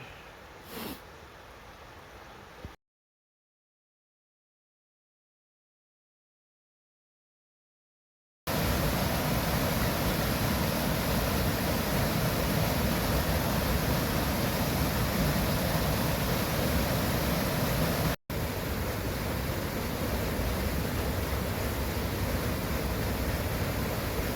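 A creek flows near a backcountry campsite in Glacier National Park on a September morning, making a steady, loud, broadband rush of water. It breaks off briefly into silence, then continues near and alone with no voices.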